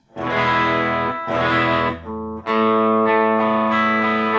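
An electric guitar through an overdrive pedal and an Iridium pedal, without compression, plays a few sustained, slightly gritty chords with a shimmering, modulated effect, ringing out clearly with no talking.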